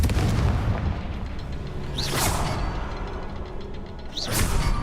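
Two booming explosions from the Confringo spell in the video game Hogwarts Legacy on PS4 go off about two seconds apart, each a sharp burst over a dense, rumbling game soundscape.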